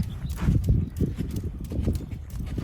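Hooves of a Tennessee Walking Horse during a training session thud and clop on the ground in a steady walking rhythm, close by and moderately loud, with faint background noise.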